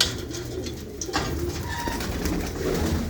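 Several pigeons coo softly and continuously inside a loft, their low rolling calls close and overlapping with no talk.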